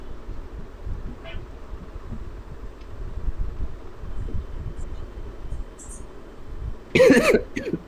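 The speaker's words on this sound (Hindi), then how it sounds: "हाँ माइक पे खांस लो" A single short, loud cough bursts out close to the microphone after several seconds of low, steady background hum.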